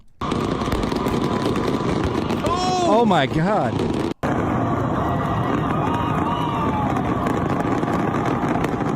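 Fireworks fire from stadium stands into a crowd near a marching band, giving rapid crackling bursts and a quick run of rising whistles around the middle, all over a loud, roaring crowd while a voice exclaims.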